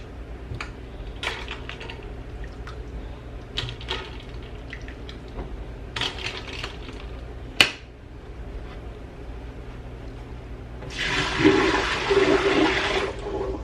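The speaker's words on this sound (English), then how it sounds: "I'm gonna just dump this water out this pan or pot that I'm already using here" Water is dumped out of a cooking pot: after a stretch of scattered clicks and knocks from kitchen handling, a loud rushing splash of pouring water rises near the end and continues for a couple of seconds.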